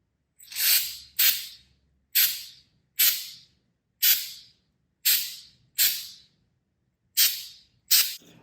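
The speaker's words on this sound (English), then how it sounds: "I'm just going to spray it." Flex Seal spray coating hisses from an aerosol can onto a metal tree stand platform in nine short separate bursts, each about half a second, close and loud with silent gaps between them.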